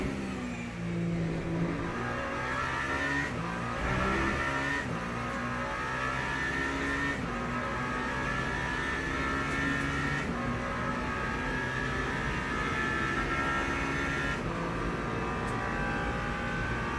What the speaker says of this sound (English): You even hear the car scratching on the ground